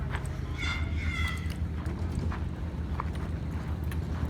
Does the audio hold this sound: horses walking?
yes